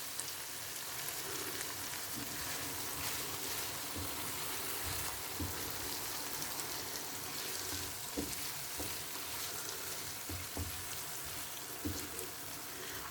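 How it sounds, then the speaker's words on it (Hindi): Peas and minced meat fry in a pan with a soft, constant sizzle and crackle, quiet and close, broken by scattered spatula taps and no talking. "मटर को मैं तकरीबन 2 मिनट तक भून कर फिर मैं इसमें जो कीमा है वो कीमा ऐड कर देंगे"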